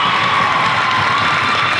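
Home crowd at a Highlands school sports game cheering after a goal, a loud, sustained roar of many voices filling the whole short stretch with no pause.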